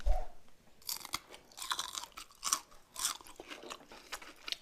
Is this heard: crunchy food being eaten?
yes